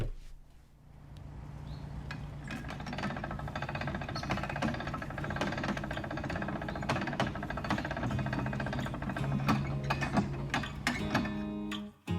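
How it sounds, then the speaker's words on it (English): Heavy mechanical creaking and grinding with ratcheting clicks and clanks as a heavy canal lock gate is pushed slowly open, close by and steady. "it's really heavy to push the gate open"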